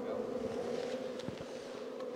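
Honey bees buzz steadily and closely as they are handled by hand in southern Saudi Arabia, with a continuous droning hum and faint handling noises underneath.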